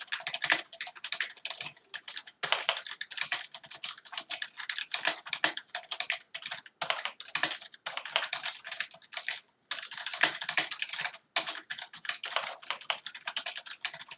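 Typing on a Rii RK900 gaming keyboard: rapid, clicky keystrokes in uneven bursts with brief pauses between runs, close and crisp with no voices.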